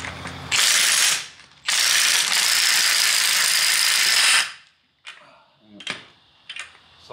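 A socket wrench ratchets on a bolt during work on a scrapped vehicle, giving two long, loud bursts of fast clicking close to the mic, followed by a few short, separate ratchet strokes.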